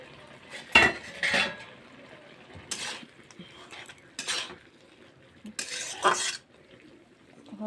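Metal lid lifted off a cooking pot of spinach and potatoes, with several sharp clanks and scrapes of metal on metal spread through the clip, close up, faint stirring between the hits and no voice.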